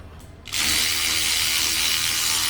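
Ratchet working loose a seized bolt on a Ford EcoBoost engine, a quiet start giving way at half a second to a loud, continuous buzzing click of the pawl that runs steadily to the end.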